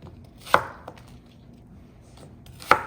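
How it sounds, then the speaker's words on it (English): An onion is diced with a knife on a cutting board, two sharp, close chops ringing out against near silence with a lighter tap between them. "This other onion I'm just going to dice"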